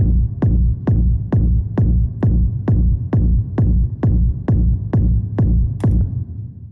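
Techno kick drum sent to a return-bus reverb with a 1.76-second decay and a 75% wet mix, sounding as fourteen steady, evenly spaced punchy thumps with short reverberant tails, loud and alone.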